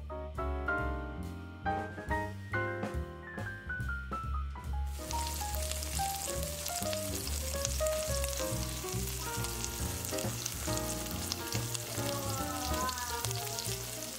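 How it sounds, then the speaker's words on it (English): Cornstarch-coated feta cheese fries in olive oil in a large skillet over medium heat, a steady sizzle running under prominent background music throughout. "In a large skillet over medium heat, I added a few tablespoons of olive oil, and then I placed all of my cornstarch coated feta cheese inside."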